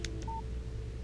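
A short electronic phone tone in the Alan Wake video game, a few brief beeps over a steady low in-game hum, fairly quiet.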